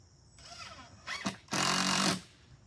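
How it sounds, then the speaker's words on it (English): A power screwdriver drives a screw into wood, with a short whir followed by a longer loud grinding buzz up close, after some handling noise. "I got to put another screw in over here for this wood"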